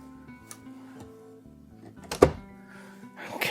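An RV cabinet door on gas support struts is pushed out to full extension, with soft creaks building to a single sharp thunk, then a rising rustle at the end.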